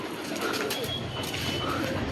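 Pigeons perched together on a rooftop coo softly in low, continuous murmurs, faint and close, with no one talking.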